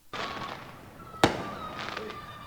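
Fireworks sound effect, probably from a July 4th celebration, used in a music project: a crackling burst, a sharp loud bang in the middle, then more fizzing crackle, all fairly close with no voices over it.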